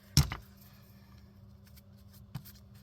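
Scissors snip off extra thread on a handmade book-page envelope, with one crisp, close cut followed by a quieter second click a couple of seconds later in a still room.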